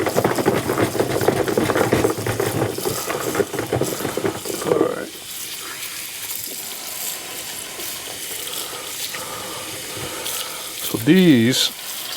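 Tap water gushes loudly into a bathroom sink as the drain parts and stopper are rinsed out, pouring steadily for several seconds before dropping to a quieter trickle.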